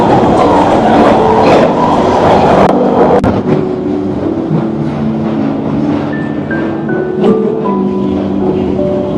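A London Underground train rumbles and clatters at St. Paul's station, loud and close, with squealing wheel and brake tones rising over the steady roar.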